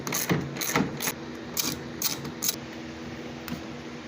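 Wrench working a 13mm bolt on a Craftsman T240 riding mower, a series of quiet ratcheting clicks in short irregular bursts, close up with no talking.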